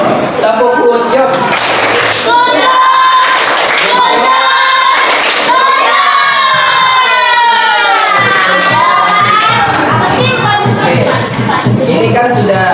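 A class of primary school children performs a rhythmic 'good job' clap chant, loud shouted voices in unison with bursts of clapping running continuously and close.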